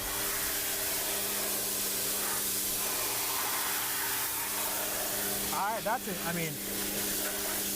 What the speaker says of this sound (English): pressure washed it off, and we're about good. I've got a real light pressure washer here